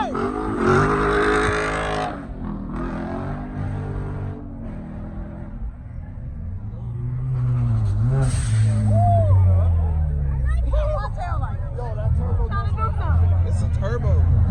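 Turbocharged Ford Mustang revving at a car meet, loud swelling engine roars and sustained revs with crowd chatter and shouting voices throughout.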